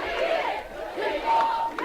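A protest crowd cheering and shouting while a statue is pulled down, a dense roar of many voices with whoops and yells, loud and close.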